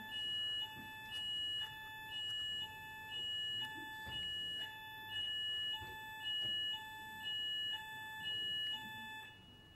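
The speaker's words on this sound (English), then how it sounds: "They said there would be an alarm, but it's just a test." A fire or smoke alarm sounding during a test beeps in steady repeated pulses of a high electronic tone, with about ten bursts spaced evenly over the stretch, alone with no one talking.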